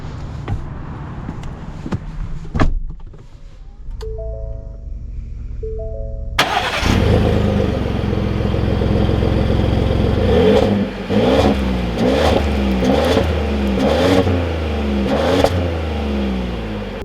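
A 2021 Ford F-150 Limited pickup truck, with an electronic chime and door sounds, then the engine cranking and firing into a loud idle and repeated revving as it drives off, with no voices.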